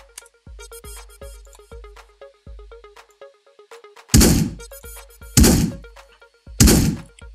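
Gunshots in an Oculus Quest video game: a regular series of short thuds and clicks followed by three loud, sharp blasts spaced about a second apart, close and punchy.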